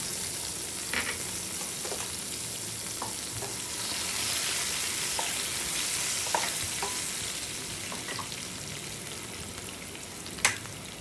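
Garlic, ginger and tomato sizzle steadily in a pan for mutton, a dense continuous frying hiss with occasional soft stirring clicks and one sharp tap near the end, no voices.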